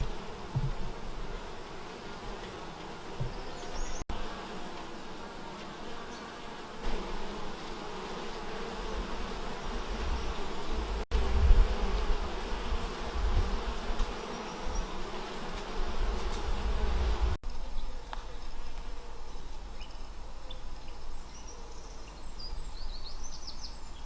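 A dense, steady buzzing of thousands of honey bees at a hive surrounds the listener, close and continuous, with faint bird chirps now and then.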